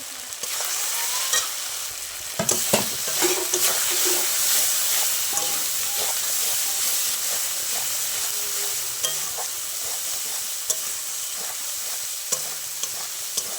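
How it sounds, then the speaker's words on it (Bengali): Masala with turmeric, salt and chilli powder sizzling steadily in hot oil in a pan, a close, continuous frying hiss broken by occasional stirring scrapes and clinks, with no talking. "মশলাটা ভালো করে কষিয়ে নেব"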